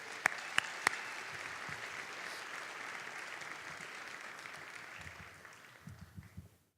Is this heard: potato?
no